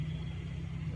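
A car driving along a road in Singapore, heard as a steady low engine and tyre rumble from inside, constant and even throughout.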